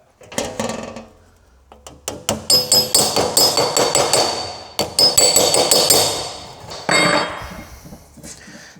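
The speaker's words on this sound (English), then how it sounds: "I'll use a little flipper just to straighten them up a bit" A small metal flipper taps an aluminium heat shield for a Maserati flat, a loud, close run of quick repeated metallic hammer blows in bursts with brief pauses, no talking.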